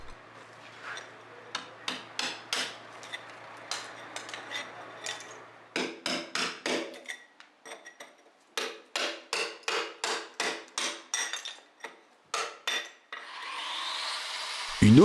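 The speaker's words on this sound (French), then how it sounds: "vous devez encore dégager la rainure à la main avec un marteau et un burin" Hammer blows drive a chisel to clear out a groove in a wall by hand, a sharp crisp striking in quick bursts and runs of evenly spaced taps, separated by short pauses, with a rising hiss at the end.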